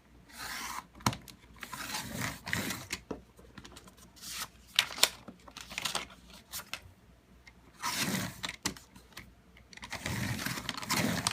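Cardstock being trimmed down to six inches, with bursts of sliding, rasping paper-trimmer cuts and handling rustles, close and intermittent with quiet pauses between strokes.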